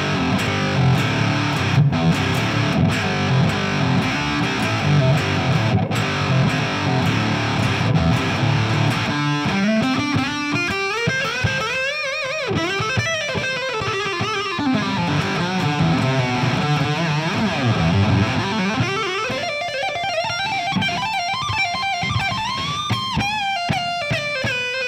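An electric guitar plays through an Orange Fur Coat fuzz pedal with the octave effect engaged: thick, distorted fuzz chords give way to sliding, squealing upper-octave lead lines, loud and continuous with no talking.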